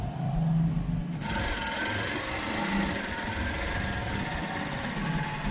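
A domestic sewing machine stitches the seam of an inner skirt (underskirt) in steady, continuous running, close and fairly loud, with a sharper start just over a second in.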